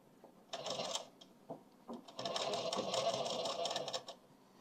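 Sewing machine stitching a suit sleeve seam in quick bursts, a short run, a pause and a brief stop, then a longer steady rattling stretch, fairly quiet and close.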